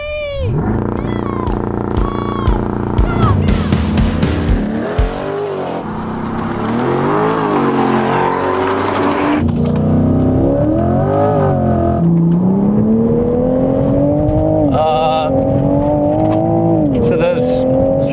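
A Toyota GR Supra does a burnout at a drag race launch, its engine revving hard and screaming in rising and falling sweeps with tire noise, loud and close, while people talk over it.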